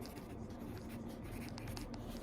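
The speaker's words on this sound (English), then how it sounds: "I guess I will write it down." Pen or pencil writing on paper while noting a body measurement, a steady soft scratching that runs continuously at close range for a couple of seconds, with no talk.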